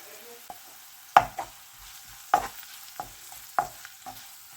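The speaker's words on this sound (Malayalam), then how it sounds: "ഇളക്കി കൊടുക്കാം." Green chillies and curry leaves fry in a pan with a soft sizzle as a spatula stirs them, giving several sharp scraping knocks spaced about a second apart. No voices are heard.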